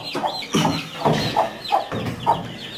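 A broody Light Brahma hen clucks near her two-day-old chicks, giving a series of soft, rhythmic clucks about every half second, close and clear, with faint chick peeps between them.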